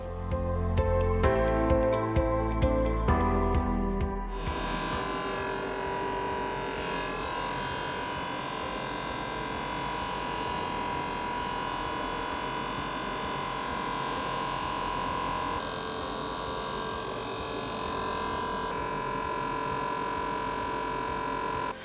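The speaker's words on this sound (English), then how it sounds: "So this machine separates what we want from what we don't want." Cocoa processing machine separating cocoa beans from husks in Uganda, a continuous droning mechanical hum with steady tonal whine, preceded by a few seconds of heavier rhythmic rumbling at the start.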